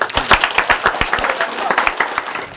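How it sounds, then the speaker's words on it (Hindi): An audience at a spoken gathering bursts into lively applause, many hands clapping in quick, uneven bursts up close, loud and sustained before gradually thinning out. "एक बार माता पिता के नाम से जोरदार ताली होना चाहिए।"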